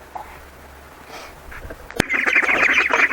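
Ducks being brought a soft zucchini supper in a Siberian village yard: faint calls at first, then a loud, dense burst of noisy quacking and honking after a sharp clack.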